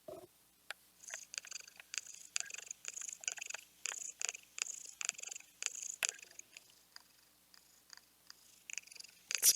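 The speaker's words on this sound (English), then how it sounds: "It's purring." Morgana the cat from the video game Persona 5 Royal purring in a steady series of soft rhythmic bursts, close and fairly quiet, with no talk over it.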